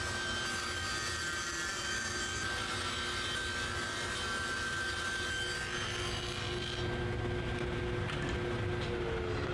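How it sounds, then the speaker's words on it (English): Table saw cutting sheet goods down to size, a steady loud whining roar that holds throughout with a faint high tone running under it and shifts slightly in the last few seconds. "Then it was back to the table saw, a much cleaner process to cut those sheet goods down to their final dimensions"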